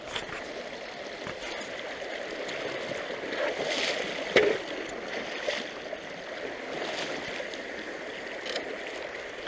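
Shallow water flows along a California river bend at a gold prospecting claim, a steady broad rushing and gurgling close by with one brief splash or knock partway through.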